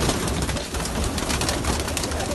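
Pakistani pigeons kept in Germany coo and flutter close by, a steady dense layer of bird sounds over broadband rustling, with no voices.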